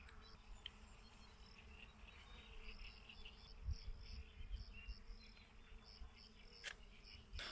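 Bees buzz around outdoors during close-up macro photography, a faint, wavering hum that rises and fades as they move nearby, with no talking.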